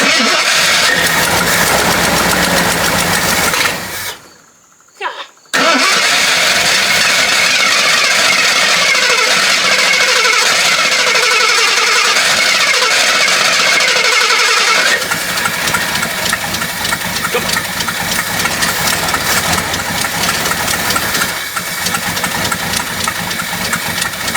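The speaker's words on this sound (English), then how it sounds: "I keep turning the idle screw up and it just don't want to idle up" A carbureted 1970s Jeep Wagoneer engine cranks and runs loud and close, cuts out briefly, then settles into a rough, steady idle that continues with no talking.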